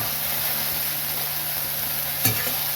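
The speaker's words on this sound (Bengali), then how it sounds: "এবার আঁচ বাড়িয়ে ভেজে নেবো এটাকে।" Drumstick flowers fry on a high flame in a pan, a continuous close sizzle with a brief scrape of stirring near the end.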